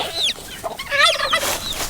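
Chickens cluck loudly and close by in a short burst of squawks and rising cackles, with no one talking.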